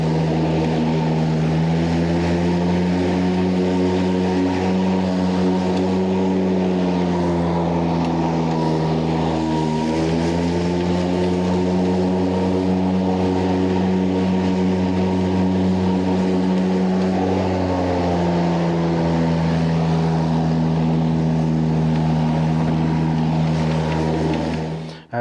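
An Exmark Commercial 21 V-Series walk-behind lawn mower runs loud and close without a break, its steady engine drone rising and falling slightly in pitch as the RPM shifts.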